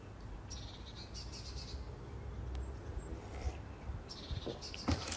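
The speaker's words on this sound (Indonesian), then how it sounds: "Dengar-dengar suara burung." Faint bird chirps come and go over a steady low rumble of outdoor background noise, with scattered short tweets spread through the clip.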